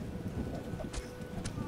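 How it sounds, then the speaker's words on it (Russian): Steady in-game rainfall in The Witcher, a soft continuous hiss with low rumbling underneath and a couple of brief brighter splashes. "Ужас, какой дождь."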